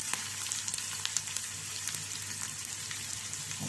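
Steady crackling sizzle of finely chopped onion frying in a hot pan, with sharp pops spattering throughout, close and continuous.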